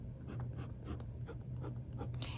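A fountain pen swirls ink swatches across rough, fibrous uncoated paper, producing close scratchy strokes in quick bursts over a faint low hum.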